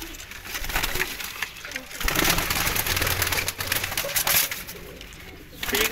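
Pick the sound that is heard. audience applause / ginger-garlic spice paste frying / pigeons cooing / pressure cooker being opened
pigeons cooing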